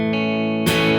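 Dry electric guitar with no reverb, playing a sustained chord that rings steadily and is then restruck with a brighter attack near the end, close and clear with no voices.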